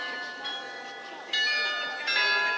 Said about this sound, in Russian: Вот они колокола.